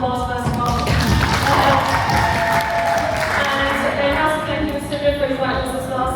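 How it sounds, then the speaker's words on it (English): A crowd at a women in business event claps and cheers steadily throughout, a continuous wash of applause filling the room. "let's give ourselves a round of applause first of all"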